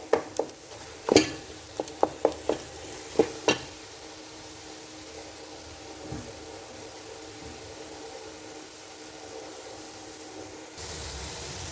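Carrot halwa with khoya is stirred and roasted in a pan: a burst of sharp scrapes and clinks comes first, then a quiet, faint sizzle.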